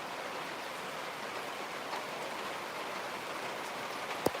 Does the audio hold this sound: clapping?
no